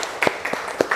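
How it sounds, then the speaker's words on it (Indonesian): A few distinct hand claps in a classroom, spaced irregularly, close and fairly loud with no talk. "Beri tepuk tangan nak."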